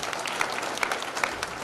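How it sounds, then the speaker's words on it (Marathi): A crowd at a Marathi kirtan performance claps loudly and vigorously, a short burst of dense, continuous applause at close range. "सर्वांनी जोरदार टाळ्या वाजायच्या"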